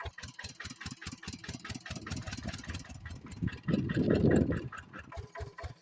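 A small water pump engine putters steadily in a fast regular rhythm, close by, swelling louder briefly as it revs up to feed sprinklers.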